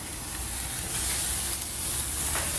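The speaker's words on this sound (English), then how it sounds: "we're just going to put these lamb chops down here on the grill" Lamb chops searing on a hot gas grill give a steady, loud sizzle and hiss with no break, close up, with no voices.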